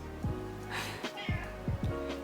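A pet cat rubbing her face against a tripod gives several short, close meows in quick succession, each a brief falling cry, amid faint indoor background sound.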